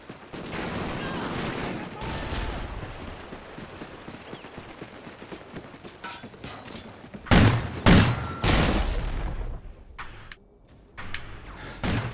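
Magnum pistol shots in a shooter video game, a few loud sharp bangs clustered in the middle and later part, preceded by quieter game action and scattered noise.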